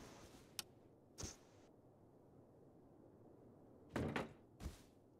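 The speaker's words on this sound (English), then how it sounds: "I hear doors inside opening up" Doors open inside a base in the video game Rust, heard as a few faint scattered thunks and creaks with quiet gaps between them.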